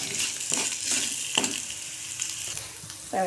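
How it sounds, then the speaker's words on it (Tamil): Urad dal, coriander seeds and spices sizzle as they are stirred in a hot pan for curry leaf chutney. The frying is close and continuous, with scraping stirs running through it. "வதக்கும் போது நல்லா வதங்கிடுச்சு"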